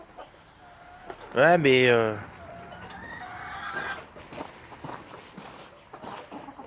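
Hens being fed at home give a loud burst of rooster-like squawking and clucking near the start, then softer clucks and footsteps continue while someone talks over them.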